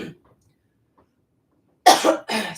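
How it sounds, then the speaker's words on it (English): A person doing a morning yoga session coughs in two rough, close bursts after a stretch of near silence, with a faint breathy sound at the very start. "Man, all the coughing."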